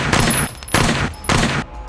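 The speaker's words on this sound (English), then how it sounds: "5 shots rang out." Gunshots fired by a gunman at close range come as three loud, sharp bursts spaced evenly about half a second apart, each with a short ringing decay.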